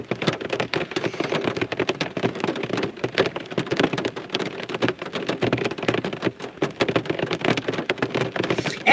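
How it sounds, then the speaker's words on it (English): Steady rain falls through woodland, a dense, continuous patter of drops striking leaves and ground, close and fairly loud with no voices throughout. "As soon as it stops raining"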